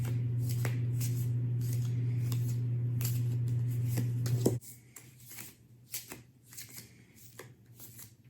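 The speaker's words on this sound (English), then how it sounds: "I'm going to edit out all the shuffling besides the one shuffle that I do where you see me pull the card" Oracle card decks shuffled by hand, a rapid riffling patter of cards close up over a low steady hum that cuts out midway, leaving sparser shuffling snaps.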